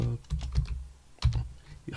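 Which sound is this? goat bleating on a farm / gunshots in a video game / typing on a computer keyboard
typing on a computer keyboard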